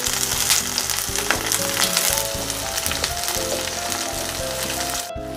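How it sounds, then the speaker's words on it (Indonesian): Sliced shallots sauté in hot oil with a dense, loud continuous sizzle and occasional stirring scrapes, no voices. "Ditumis-tumis sampai bawang merahnya ini setengah matang ya teman semua."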